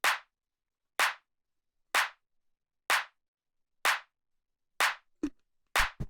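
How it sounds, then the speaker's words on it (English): A quick, cracky mid-range clap drum sample for deep tech, struck alone about once per second, dry and short with no reverb tail, followed by a couple of faint clicks near the end. "It's already like a pretty nice clap."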